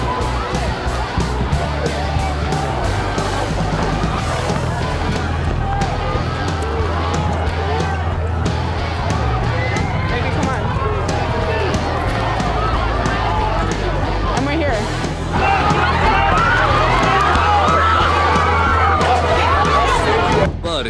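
An aggressive crowd of protesters surrounds a car, a dense roar of shouting voices and babble close by for the whole stretch, with engine rumble underneath and the noise swelling louder toward the end.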